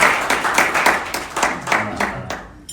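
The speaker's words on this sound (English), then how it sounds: "So round of applause for everybody." A burst of clapping from a group at a lobby day event, steady and fairly loud, tapering off toward the end.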